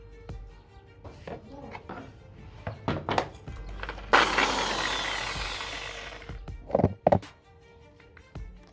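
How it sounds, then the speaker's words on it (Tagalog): A power drill enlarges a bolt hole while a belly pan is fitted to a Sniper 150 motorcycle. A loud whirring burst of about two seconds sits between scattered thunks and taps. "So gamitan natin ng barena para palakihin natin yung butas."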